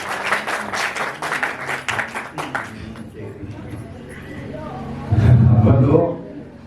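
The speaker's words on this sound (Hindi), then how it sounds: "जोरदार तालियां" Applause from the audience at a rural Hindi poetry gathering near Biswan, Sitapur, a short burst of lively clapping lasting a few seconds before it gives way to talking and quieter room sound.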